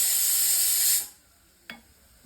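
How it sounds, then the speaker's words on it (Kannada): A pressure cooker whistling in a home kitchen, a loud steady hissing blast for about a second that cuts off abruptly, followed by a brief click. "ಕೇಳಿಸ್ತಾ ಇದೆಯಾ? ಕುಕ್ಕರ್ ಬೇರೆ ಕೂಗ್ತಾ ಇದೆ."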